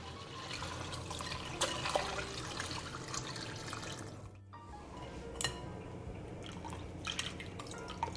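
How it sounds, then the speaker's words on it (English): Beef broth drips and trickles through a sieve into a bowl in a kitchen, a steady close liquid patter with a brief pause midway, no talk. "I'm gonna pass all my broth through this sieve"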